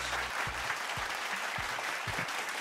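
Applause from an audience welcoming speakers onto a stage at a digital-industry gaming event, a soft, even patter of clapping heard from a distance at low level, with faint low thumps underneath.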